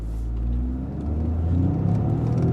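A 2026 Toyota GR Corolla's engine pulls hard under acceleration in manual mode, a loud, close rumbling drone that climbs steadily in pitch, dips briefly as if through a shift, then builds again.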